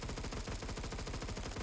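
Rapid automatic gunfire from a weapon in the Roblox game Phantom Forces, a dense, loud, continuous burst of shots filling the whole stretch without pause.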